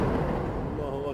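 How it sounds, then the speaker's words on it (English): A shell explosion hits a building in Aleppo, heard as a brief, heavy low rumble that fades over about a second, with a voice faintly present beneath it. "There's audio of an explosion and thick white smoke rising up from the building."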